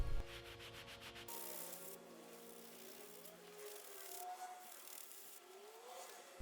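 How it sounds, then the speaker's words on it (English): A sanding pad soaked in degreaser scrubs rust, dirt and oil off a Land Rover Defender tub, making a steady, close abrasive rubbing with faint, continuous grit texture; a brief tonal noise is heard at the start. "you just need to spend time sanding and removing the rust"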